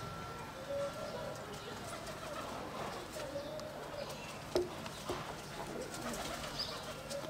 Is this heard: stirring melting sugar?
no